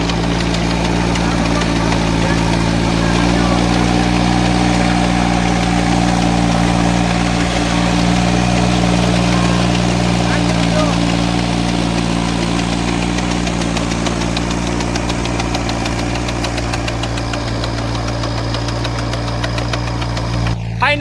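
A rented tractor engine idles steadily nearby, a deep, even rumble with a knocking vibration that holds unbroken and loud throughout.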